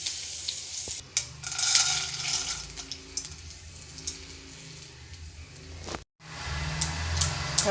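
Mustard seeds splutter in hot coconut oil in a pan, a quiet crackling sizzle with a few scraping stirs and a brief silent gap before the popping resumes.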